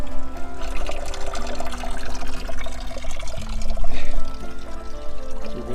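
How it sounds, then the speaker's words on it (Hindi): Natural spring water flows out from an underground source at a Mahabaleshwar hill station in Maharashtra, a loud, close, continuous pouring and splashing that swells and dips slightly, heard alone without talk. "ये है नेचुरल वाटर का सोर्स। ये देखिए नेचुरल वाटर सोर्स।"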